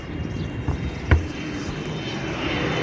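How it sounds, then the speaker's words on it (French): Airplane passing overhead in the Orly flight corridor, a steady broad engine drone beneath outdoor ambience, with a brief thump partway through. "Et nos amis les avions. Et oui, parce qu'on est quand même dans le couloir aérien d'Orly."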